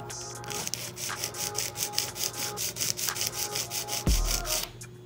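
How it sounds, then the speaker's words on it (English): Nail file rasping across an acrylic nail during shaping, a close, steady back-and-forth scraping in an even rhythm of quick repeated strokes. "I'm making sure that I'm filing right from this top where the tip is, connected to the natural nail all the way down here"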